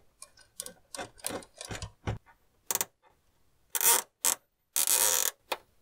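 Plastic cable tie being slowly tightened around a graphics card inside a PC case, a series of sharp ratcheting clicks and zips in short bursts, close and alone, with pauses between pulls.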